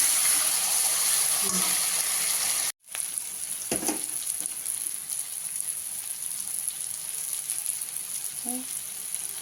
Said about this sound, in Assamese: এতিয়া মাছটো ভাজি আছোঁ, ভাজি আলুটো দি দিম